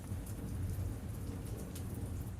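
Steady rain falling by the coast, a soft continuous hiss with a low rumbling undertone, faint and even throughout.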